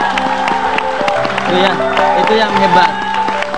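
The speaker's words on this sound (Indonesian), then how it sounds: "Beri tepuk tangan dong, luar biasa banget." A studio audience on an Indonesian TV talk show claps and cheers, the crowd noise sitting under a host speaking and backing music.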